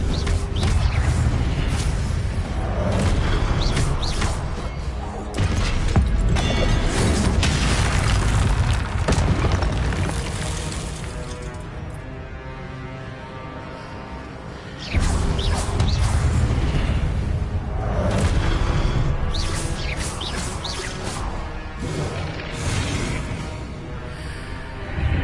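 Spell blasts in the video game Hogwarts Legacy, with Confringo, Incendio and Expelliarmus casts: repeated loud booms and explosive bursts with whooshes, running continuously with brief dips and a sharp new blast midway.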